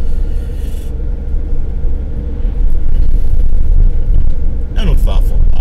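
A BMW passes a slow-moving car on a road, its rumble briefly rising near the end over constant loud engine and road noise inside the vehicle.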